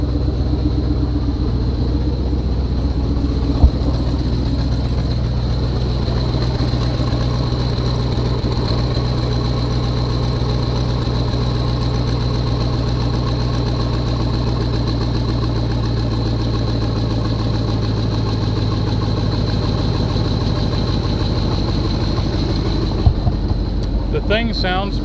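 An LS-swapped 2006 GMC Envoy with a misfire idles just after starting, a steady, close, low engine rumble that continues unbroken, with a few faint knocks near the end.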